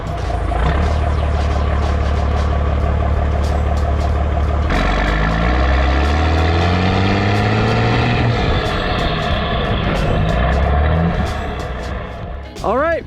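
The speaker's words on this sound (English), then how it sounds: "He's got a cool Cummins Swap F350." Cummins diesel swapped into a Ford F350 pickup, heard loud and close from right over the tailpipe, a heavy continuous rumble whose pitch shifts partway through as the engine note changes, running steadily to the end.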